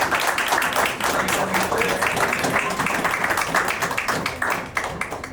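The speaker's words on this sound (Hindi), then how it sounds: "आप सभी अपने लिए ज़ोरदार ताली बजाइए" An audience in a hall at a toppers' meet for bank exam achievers claps loudly and steadily, a dense, continuous wash of many hands applauding without pause.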